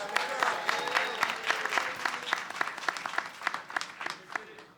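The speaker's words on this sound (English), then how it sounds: "Round of applause for Erica Parm, everybody." An audience at a hip-hop hall of fame induction gala breaks into applause, a dense burst of many hands clapping that stays strong, then thins and fades over a few seconds.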